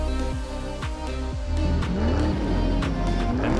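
Engine revs for a Hot Wheels diecast race between an Aston Martin Vantage GT3 and a Nissan GTR on a double-lane curved track, a loud continuous roar with rising, climbing pitch throughout.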